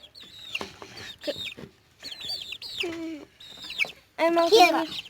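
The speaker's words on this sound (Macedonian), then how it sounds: "Сега, порано пилињата беа малечки, ама сега вака изгледат кога пораснаа." Young chickens cluck and chirp in a coop in short, close bursts, grouped in several clusters with brief pauses, while people talk intermittently nearby.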